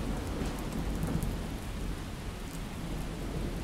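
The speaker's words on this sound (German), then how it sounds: "Hör auf zu gewittern!" Steady, heavy rain pours continuously while low thunder rumbles underneath, a dense and unbroken storm wash, from a thunderstorm in the video game Miscreated.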